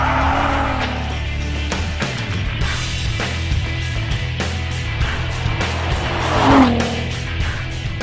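A 2008 Volkswagen R32 driven hard on a race track, its engine revving loudly through gear changes with brief tire squeals, heard from inside the car without talk.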